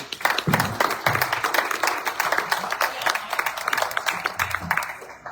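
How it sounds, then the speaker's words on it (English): Audience applause at a Chamber of Commerce candidate forum, a steady patter of claps from a modest crowd lasting several seconds with some voices mixed in. "Let's give them a round of applause, folks."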